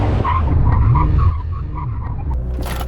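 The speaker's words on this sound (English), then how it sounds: "Right, let's do a brake test. 70 miles an hour, line, full emergency stop." Nissan GT-R braking hard from 70 mph in a full emergency stop, tires skidding and squealing loudly with wavering pitch for about a second before the noise drops and the car settles.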